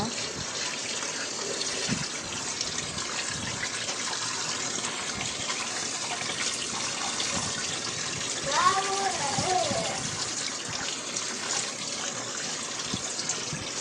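Steady running water pours and splashes continuously throughout, close by, rinsing fish in a kitchen, with a brief clatter near the end.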